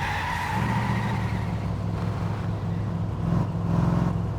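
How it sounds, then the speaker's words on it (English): Engine drone of an American muscle car floored to over 100 mph down a highway in My Summer Car, a steady loud low roar with tire noise, continuous for the whole stretch. "in his American muscle car, I decided to floor it down the highway going 100 plus miles an hour"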